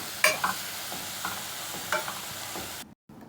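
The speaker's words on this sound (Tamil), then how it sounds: "தக்காளியை சேர்த்தாச்சு. இப்போ நல்லா கிண்டி விட்டுக்குருவோம்." Chopped tomatoes fry in a pan while a spoon stirs them, sharp scraping clicks near the start and middle over a low continuous sizzle, then a brief cutoff near the end; no talking.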